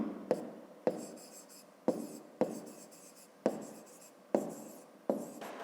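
Pen or pencil writing by hand on paper in a Ukrainian 5th-grade maths exercise, a series of seven distinct scratchy strokes, each starting with a sharp tap and trailing off, close and fairly quiet with no talk.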